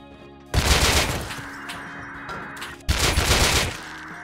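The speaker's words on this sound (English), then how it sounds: "I think that's a silencer AK outside" Silenced AK rifle fire in the game Rust comes in two rapid bursts of clattering automatic shots, each a loud volley lasting about two seconds, separated by a brief lull.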